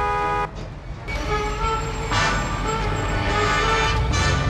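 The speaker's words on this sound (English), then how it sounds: "now honk your horn" Car horn honked in the Mafia 2 video game while parked in front of a garage door, a sustained tonal blare starting about half a second in, continuing over engine rumble and city traffic noise.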